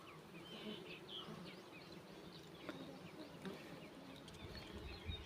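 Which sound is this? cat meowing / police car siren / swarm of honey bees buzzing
swarm of honey bees buzzing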